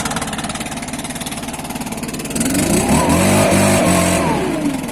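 A Stihl MS 362 chainsaw warms up, its two-stroke engine idling with a rapid steady putter before rising into a louder, sustained high rev about halfway through, close by and without voices.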